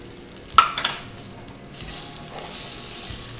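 Raw mango pieces dropped into hot oil with spluttering mustard seeds: a sharp burst of sizzle and clatter as they land, then a softer steady frying hiss, close and alone.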